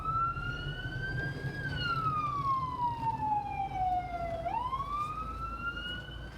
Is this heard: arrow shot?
no